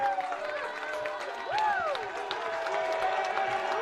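Crowd cheering and clapping at Babb Field during a college baseball championship game, a steady roar of applause with whistles rising over it near the middle, continuous and moderately loud throughout.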